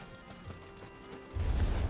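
Video game horse hooves clop softly after a rider dismounts, then a louder, rumbling run of hoofbeats swells in near the end.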